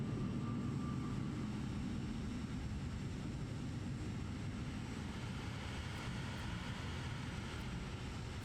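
An airplane takes off in Flight Simulator 2024 at an airport, heard as a steady, distant engine roar and broad rumble holding constant throughout.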